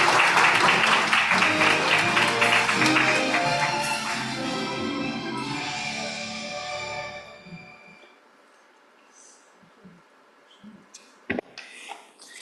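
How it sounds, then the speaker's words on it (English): Broad, dense applause from a conference audience at an opening plenary of an ecological civilisation conference, loud at first and thinning out over several seconds before fading to near quiet with a few scattered late claps. "Applause, please."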